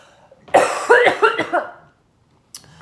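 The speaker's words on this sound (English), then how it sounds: "I'm about to go into a coughing fit again." A close fit of four harsh coughs in quick succession, followed by a pause and one short final cough.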